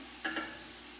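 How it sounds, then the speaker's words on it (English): Vegetables being stirred in a large pot of vegan chili: a short scraping stir with two brief swishes near the start, then a low steady background hum. "it is stirring the tomatoes"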